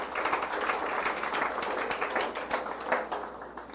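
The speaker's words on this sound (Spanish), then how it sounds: "un aplauso al Señor" A church congregation claps together in applause during a Spanish-language sermon, producing a steady, fairly close wash of hand claps that continues without pause.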